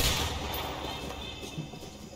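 Gunfire from the video game A Way Out, a dense, continuous rattle of shots and explosions filling the whole stretch at steady loudness, with no clear gaps between bursts.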